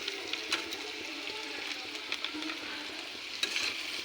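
Vegetables for a niramish sabji fry with cumin powder in a pan, giving a steady close sizzle with occasional scraping clinks of stirring.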